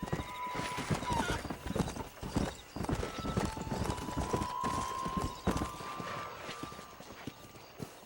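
A galloping horse in the video game Red Dead Redemption sends out rapid, loud, close hoofbeats in a driving rhythm, with a whinny early on and game music underneath.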